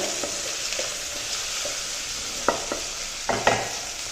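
Masala paste sizzles loudly in hot oil alongside a frying fish head, tomato and onion. A continuous close crackle runs throughout, broken by a few sharp scraping stir strokes.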